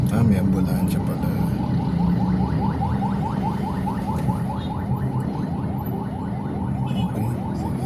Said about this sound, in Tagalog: May ambulansya pala.